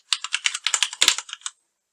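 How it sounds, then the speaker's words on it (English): Rapid, close typing on a computer keyboard, about a dozen crisp clicks in quick succession over a second and a half, then silence. "here I'm just going to type in Van's headquarters"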